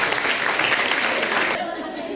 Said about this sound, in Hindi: तालियां बजनी चाहिए भी देखिए